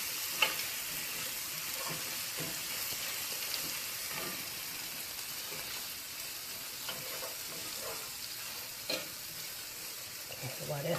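Sausage frying until crispy in a pan makes a steady, close sizzle and hiss that runs unbroken, broken only by occasional small pops and clicks.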